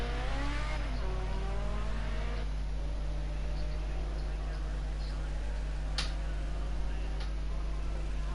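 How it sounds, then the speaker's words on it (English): A Ford Sierra Cosworth Group A touring car races at Zolder circuit. Its engine drones continuously as it climbs over a hill and brakes into a hairpin, with a steady roar and shifting pitch under commentary. "Up over the hill and down into the hairpin right for this current attempt in the Sierra Cosworth."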